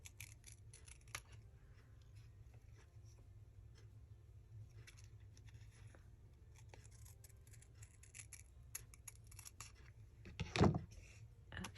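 Scissors cut paper in a series of quiet, close snips and rustles over a low background hum, ending with a louder crisp crunch of paper near the end.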